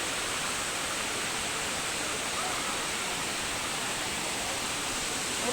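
Daranak Falls in Tanay, Rizal, roars as a steady, broad rush of falling water, loud and unbroken throughout with no talk.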